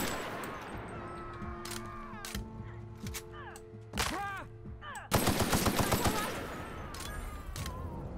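Gunfire rings out in The Outer Worlds video game, with several sharp shots and rapid bursts, including a loud stuttering volley near the end, over echoing game sounds.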